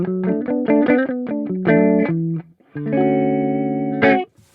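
A Larrivee RS2 guitar played through a clean UAD amp simulator with the effect switched off: a quick run of picked notes, then a strummed chord left ringing, clear and close with no talking.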